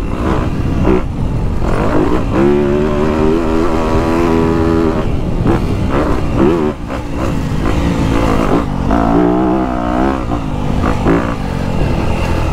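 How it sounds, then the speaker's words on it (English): Yamaha YZ250F and KTM 250SXF four-stroke dirt bikes rev hard up close, their engines barking and wailing through repeated throttle blips and sustained high revs with no talk over them. "the Yamaha's got that instant barky throttle response"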